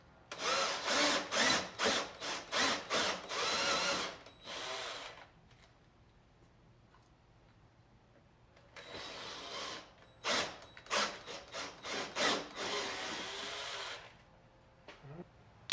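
A power drill bores a hole into the body of a 2024 Polaris Ranger XD 1500, heard as short pulsing bursts of drilling, then a quiet pause before another cluster of bursts, close and fairly faint.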